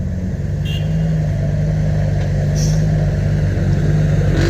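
A Hino Mega dump truck drives past on a work site, a steady loud engine rumble that holds evenly throughout with no talk.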